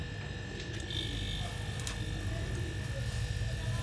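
A repaired refrigerator runs after being switched on, giving a steady low motor hum with a faint high whine. It continues evenly and alone throughout.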